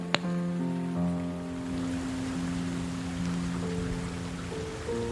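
Rain falling, a steady dense patter with a soft background hiss, accompanied throughout by sustained musical tones.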